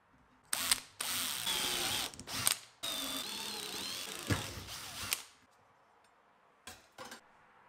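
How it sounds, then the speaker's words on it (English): Power drill boring screw holes into a metal PC power supply case, several whining bursts of drilling separated by short pauses, close and loud, with a few faint clicks at the end. "Using a center punch, I mark the screw holes and drill them out."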